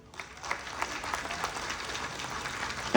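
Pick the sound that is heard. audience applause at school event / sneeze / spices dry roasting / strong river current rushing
audience applause at school event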